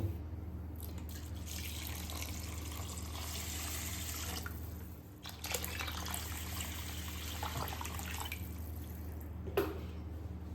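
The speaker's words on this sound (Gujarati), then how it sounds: "તો હવે આપણે એને પલાળવા માટે એમાં પાણી એડ કરીશું" Tap water pours into a bowl of rinsed lentils and rice set to soak for idli and dosa batter, a soft continuous splashing stream with quiet drips, low in level over a steady background hum.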